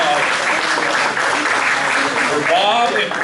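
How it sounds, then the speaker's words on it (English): An indoor audience applauds warmly at a crab feed gathering in Livermore. The clapping is loud and sustained, with cheers and voices mixed into it. "a big round of applause"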